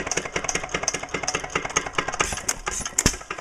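Hit and miss engine, a small stationary farm engine of the Fairbanks Morse dishpan type, chugs in a rapid regular rhythm of close, punchy exhaust pops with a mechanical clatter and no voices.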